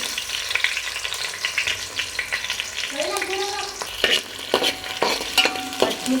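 Onions and green chillies sizzle and fry steadily in hot oil, with intermittent scraping and stirring strokes close by and no voices.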